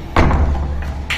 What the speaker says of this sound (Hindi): पहले दरवाजा खोल दिया इन्होंने